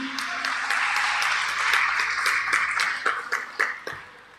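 A church congregation claps together in a sustained, fairly loud round of applause during a Pentecost service that thins out into scattered claps toward the end.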